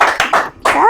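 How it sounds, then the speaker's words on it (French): A game-show audience applauds briefly, a short burst of hand claps that swells, dips and picks up again within a second. "On applaudit quand même"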